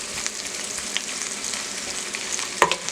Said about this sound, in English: after you allow the onions to saute a little bit